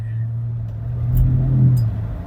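A 2006 Toyota Camry XV30 with its 3.0 V6 engine accelerating, a smooth mid-pitched engine note that swells in the middle and eases slightly at the end, heard from inside the car.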